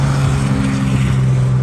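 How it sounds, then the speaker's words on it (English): A loud truck rumbles past a home garden, a heavy, steady low engine drone that fills the moment close by. "That truck is really loud."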